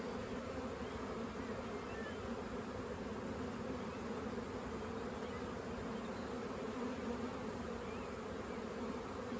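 Honey bees buzz steadily on a brood frame during a spring hive inspection, a dense continuous hum with no voices.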